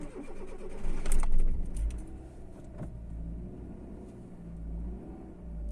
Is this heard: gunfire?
no